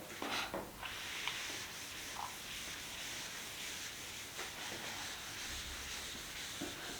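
Writing is rubbed off a classroom board with a continuous soft scrubbing and swishing sound, fairly faint and close, with a few small knocks and no talking.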